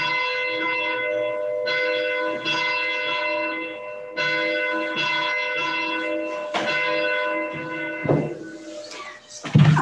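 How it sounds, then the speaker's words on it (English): A church bell tolls repeatedly at a slow, even pace to open a worship service, each loud ringing strike decaying into long overlapping resonance, heard alone without talk. "Brian will ring the bell as we start our worship this morning"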